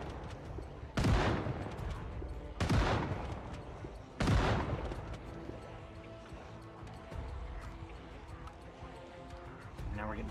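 Three loud gunshot bursts from Project Zomboid at roughly 1, 2.6 and 4.2 seconds, each standing out sharply against steady game ambience and background voices.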